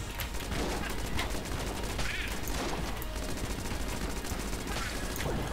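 Rapid bursts of gunfire crackle through a busy, noisy mix in the twin-stick shooter Enter the Gungeon, with dense repeated shots and fusillades holding at a fairly constant level throughout.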